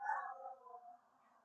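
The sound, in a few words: dogs barking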